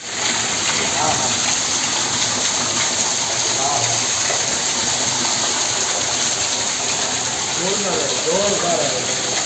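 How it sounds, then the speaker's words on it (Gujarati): Heavy rain pours down steadily in a village, a loud continuous wash of water close by, with people talking over it at times. "તો આજે ખૂબ વરસાદ આવી ગયો."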